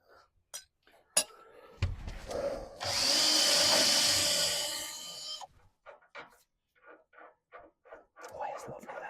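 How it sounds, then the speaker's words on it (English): A wire brush scours a thread during a front shock absorber install on a small 90, giving a harsh, steady, rasping whir for a few seconds, with clinks and brief taps before and after. "clean that thread up with the wire brush"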